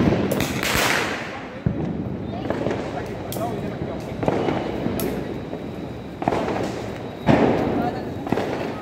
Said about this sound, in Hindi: भैया मेरे पीछे पटाखे चला रहे हैं